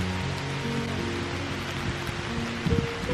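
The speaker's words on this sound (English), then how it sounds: "It is now officially raining." Steady rain falls outdoors as wind picks up, a dense even patter with a few louder bumps near the end and no talking.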